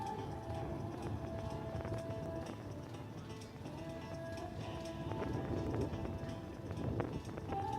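Hooves of Sherlock 46, a 13-year-old show-jumping gelding, during a 1.45m grand prix round drum in a steady cantering rhythm. They sound moderately close, beneath a constant wash of outdoor arena noise.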